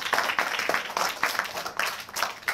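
Children applauding their teacher at a free school in Jiyapur, Azamgarh, a brief burst of scattered, uneven clapping from a group in a room.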